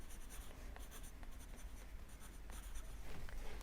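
Pen writing color names onto a paper color wheel, a close, quiet scratching of short strokes and pauses running throughout without any talk.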